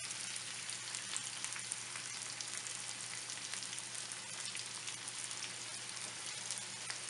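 Chopped onions frying with cloves in a hot pan for a sesame kofta curry, a steady, even sizzle with a faint hiss that continues unbroken throughout, with no voices.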